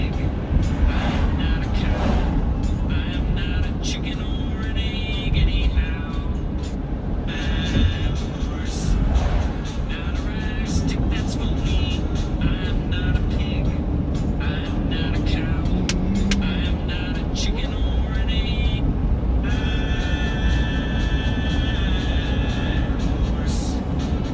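A car drives along Richmond Road in Richmond Town, Staten Island, with a steady, continuous road and engine rumble filling the whole stretch and occasional higher whines on top.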